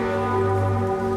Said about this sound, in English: The Mass ended with a rare funeral toll from the cathedral's Emperor Bell.